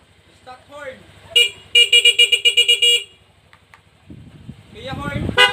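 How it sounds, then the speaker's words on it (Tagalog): Stock horn on a Honda Click version 3 scooter blares in a brief honk, then a fast run of about eight sharp pulses. Voices and handling noise surround it. "Stock horn."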